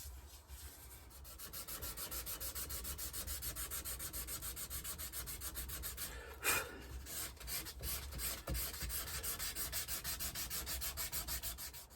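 A guitar neck for a Fender Jaguar build is hand-sanded with 120 grit sandpaper, a close, steady rhythmic rasping of back-and-forth strokes with a brief knock midway and no speech.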